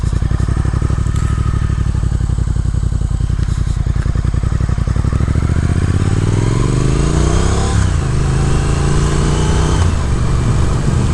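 A 2022 Triumph Speed Twin engine pulls while riding, a loud steady parallel-twin drone that rises in pitch through the gears with brief shifts near the end, heard close and alone without talk.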